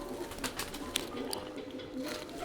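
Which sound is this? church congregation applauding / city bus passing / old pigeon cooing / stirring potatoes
old pigeon cooing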